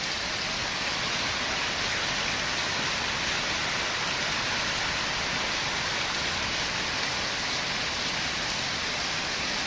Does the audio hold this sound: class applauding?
no